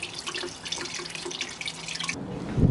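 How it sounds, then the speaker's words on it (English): Coolant drains from a Honda CRF250L motorcycle into a catch container, making a light, steady trickle and spatter close by that stops near the end, with no talking. "And here comes the coolant."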